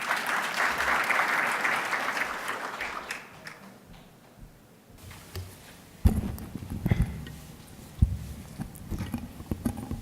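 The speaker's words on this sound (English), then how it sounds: "Please welcome me with a round of applause for His Excellency Saif Al Qubaisi." A conference crowd applauds loudly at first, the clapping fading out, followed by scattered knocks and footsteps.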